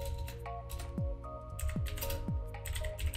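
Close, quick keystrokes on a computer keyboard come in irregular bursts of soft clicks with a few heavier key taps, and there is no talk.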